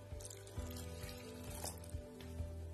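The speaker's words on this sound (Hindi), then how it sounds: "उसमें मैं डाल दूंगी एक कप पानी" Water poured from a cup into gram flour in a bowl for batter, a soft gurgling trickle with small splashes and drips, quiet and close, with light background hum.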